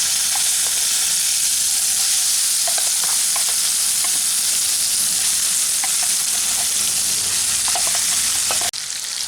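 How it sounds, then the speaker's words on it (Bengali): Nigella seeds and a dried red chilli sizzle steadily in hot mustard oil, a loud continuous frying hiss with small pops scattered throughout, no talking. "এখন এই তেলের মধ্যে ফোড়ন দিয়ে দিলাম ওয়ান ফোর চা চামচ মতো কালো জিরে আর একটা শুকনো লঙ্কা ফোড়নটাকে কয়েক সেকেন্ড ভেজে নিচ্ছি"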